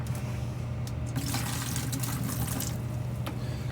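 Bleach is poured into water in a container, making a continuous close splashing, gurgling stream over a low steady hum, with the pour getting busier partway through.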